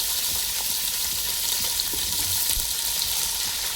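Chunks of onion and green chili fry in hot oil with cumin and dried red chilies for a gram-flour sambar, producing a loud, continuous bright sizzle and hiss close up.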